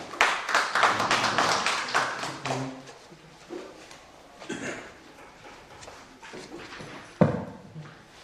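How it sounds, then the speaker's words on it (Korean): A symposium audience in a church-related hall applauds as a lecturer is introduced, a burst of dense claps for the first few seconds, then scattered taps and faint thumps fading into a quiet room. "박수로 부탁드립니다"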